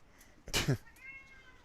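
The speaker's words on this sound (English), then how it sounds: "I swear I'm not squeezing her or doing anything to make her meow" A pet cat gives a single short, clear meow close by, with faint room noise before and after.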